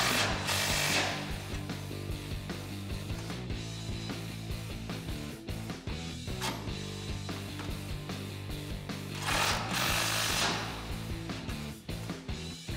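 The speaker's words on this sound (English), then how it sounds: "Now that everything is attached, we can get these nuts tightened down." Rear bumper nuts on a Jeep Gladiator JT being tightened with an 18 mm socket, a continuous busy mechanical clatter with bursts of louder hissing whirring near the start and again around the middle.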